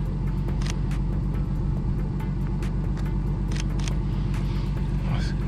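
A 700bhp BMW M3 Touring idles on a cold day, a steady, loud low rumble running throughout with occasional faint clicks layered on top.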